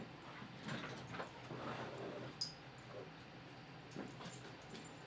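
Dogs whimper and yip faintly in a room, a series of soft, scattered whines and short cries over low background noise.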